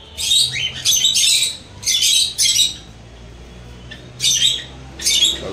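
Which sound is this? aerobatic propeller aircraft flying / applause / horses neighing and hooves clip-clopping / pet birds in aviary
pet birds in aviary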